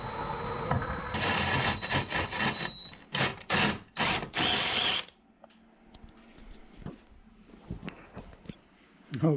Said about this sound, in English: So we're going to drill a big hole next here.